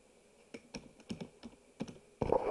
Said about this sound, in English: all you have to do is go here, hit TV shows, and just type in the first name of the TV show